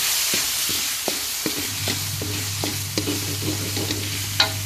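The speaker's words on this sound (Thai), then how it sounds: "วันนี้เราผัดพริกแกง อยู่นะ ผัดพริกแกงได้ที่แล้ว" A spatula scrapes rhythmically in a wok while chili curry paste is stir-fried for drunken noodles, giving a steady series of close, sharp strokes over a constant sizzle.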